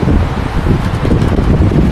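Loud, steady rush of air from an electric fan buffeting close to the microphone, a constant roaring whoosh with no voices.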